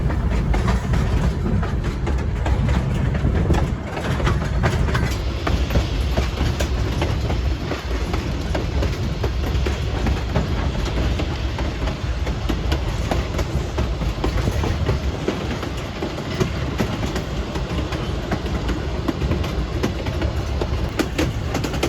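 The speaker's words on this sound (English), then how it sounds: "train make their way around the Whiplash curves" A narrow gauge train rolls continuously around tight curves in arid country, its wheels clattering and squealing on the rails over a low engine drone for the whole stretch, close and loud with no voices.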